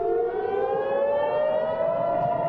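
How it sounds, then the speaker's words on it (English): An air raid siren wails across Israel during a rocket barrage from Gaza, a steady, slowly rising tone that sounds loud and continuous with no voices over it. "Sirens blared across Israel Tuesday as the Israeli military intercepted another barrage of rockets fired by Hamas from the Gaza Strip."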